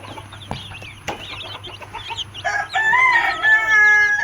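Black and white chicks about two weeks old cluck and chatter steadily nearby, rising into louder, drawn-out calls toward the end, with several birds overlapping.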